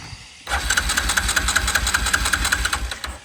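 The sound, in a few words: engine cranking and starting on an old Mud-Pro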